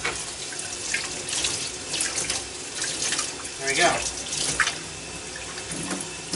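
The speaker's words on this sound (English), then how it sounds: "Run it off with some water." Tap water runs steadily into a sink as an item is rinsed under the flow, a continuous close splashing with a brief voice over it.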